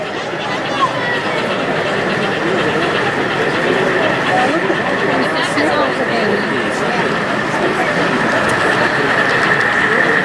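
Continuous rolling rumble of a modern model train running along its track at a model train show, with a crowd chattering steadily in the background.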